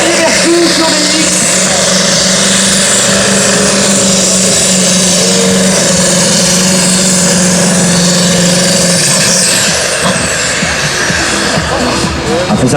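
A tractor with one of the smallest engines in its class runs at a French tractor-pulling championship in Bernay, a loud, sustained engine roar that shifts near the end, with commentary spoken over it.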